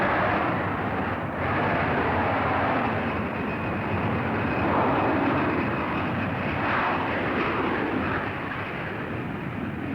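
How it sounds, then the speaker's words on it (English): Lockheed F-104 Starfighter jets of an aerobatic team at an air show roll into a formation takeoff, a loud, steady broadband jet roar that holds for the whole stretch with slight swells and no voices. "The Canadian Starfighters aerobatic team opened their performance with a formation takeoff."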